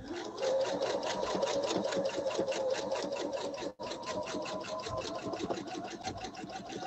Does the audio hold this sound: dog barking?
no